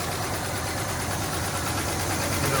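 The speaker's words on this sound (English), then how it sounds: "It is definitely missing out. I can hear it clattering a little bit." A 1968 Chevy Caprice engine idles roughly with a faint clatter and an occasional miss, a steady close rumble with no talk over it.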